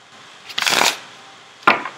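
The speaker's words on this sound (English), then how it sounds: "I'm going to do what I like to call a master shuffle." A tarot card deck being shuffled by hand: a quick riffling burst of card flutter lasting about half a second, then a pause and a sharp short snap of cards being squared, close and clear.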